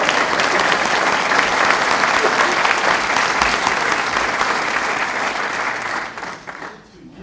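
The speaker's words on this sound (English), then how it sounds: "round of applause for that." Lodge brothers applauding at the Winter Park Lodge centennial celebration, a loud, sustained burst of clapping from a roomful of people that tapers off in the final second.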